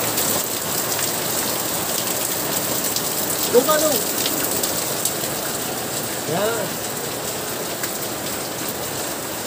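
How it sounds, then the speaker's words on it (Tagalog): Heavy typhoon rain pours down in a steady, dense hiss on surfaces nearby, with a few brief spoken words heard faintly under the downpour. "Lakas ang ulan."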